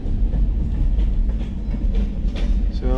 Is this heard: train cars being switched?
yes